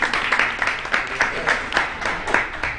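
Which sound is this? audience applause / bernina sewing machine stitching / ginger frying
audience applause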